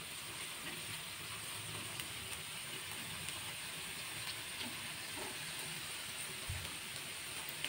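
Egg white snacks fry in oil over low heat, giving a quiet, continuous hiss and sizzle that stays even throughout, with a faint thump near the end.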